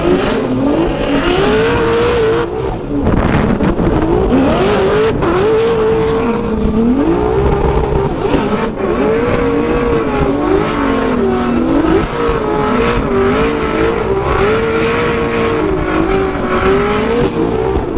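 A BMW E36 drift car at a Formula Drift event in E-Town, its engine loud and close, revving up and down in wavering surges with tire squeal throughout.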